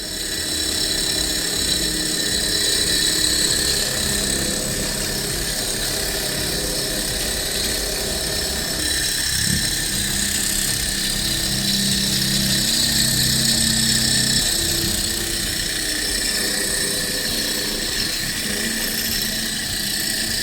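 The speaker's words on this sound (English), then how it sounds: "it will spin much faster. According to the manufacturer, it can spin at about 1700 RPM" A small Stirling engine's flywheel spins at about 1700 RPM, giving a steady whirring hum with high tonal whine, close and continuous, with a brief lower mechanical tone partway through.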